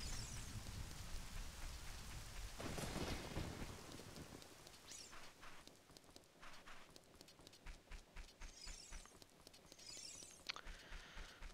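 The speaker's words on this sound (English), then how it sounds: "It's raining, oh no." Steady rain falling in Ocarina of Time, a fairly soft, even hiss with faint footsteps and a few brief sharper game sounds over it.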